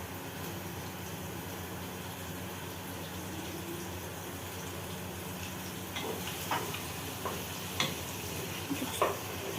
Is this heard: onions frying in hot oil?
yes